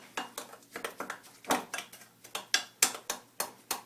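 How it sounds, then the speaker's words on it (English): Oats, flour, cinnamon and baking powder stirred in a bowl, a quick steady run of light clinking and scraping strokes, close and fairly faint. "So we're just going to stir that in there."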